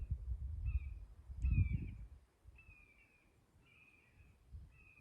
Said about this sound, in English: Red-shouldered hawk, I think.